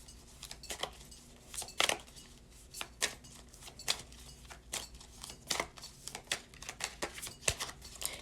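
Tarot cards being shuffled by hand, a run of crisp riffling bursts and taps in an irregular rhythm, close and moderately quiet in a calm room.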